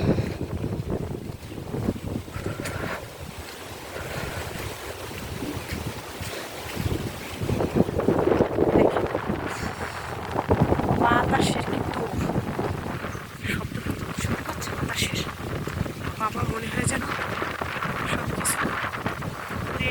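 Strong wind buffets the microphone in loud, rumbling gusts, with water sloshing faintly underneath and a voice speaking at times.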